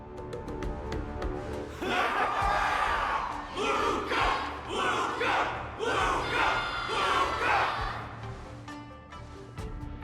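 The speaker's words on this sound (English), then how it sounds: "Everyone's cheering for you, Luca!" A crowd roars and cheers in loud rising waves, shouts swelling together, then fading back to quieter background noise.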